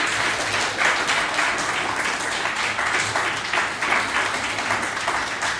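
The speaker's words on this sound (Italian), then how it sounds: "Io direi di fare un bel applauso alle prime due inviate." Dense, sustained applause from a crowd, steady clapping throughout with no pauses.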